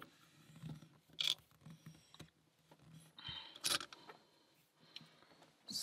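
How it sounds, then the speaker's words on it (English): Picking a Japanese Alpha 950-45 padlock held in a vise: faint, sparse metallic clicks and scrapes with a few sharper ticks, close and quiet, no talking. "Let's put it in a vise and try to pick it."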